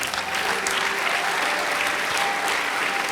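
A church congregation claps during a service, brisk, dense applause from many hands filling the short stretch at a steady, close level.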